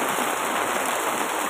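Steady rain falling on Chocoy Street, a dense, even hiss of drops on the pavement, close and continuous with no voices.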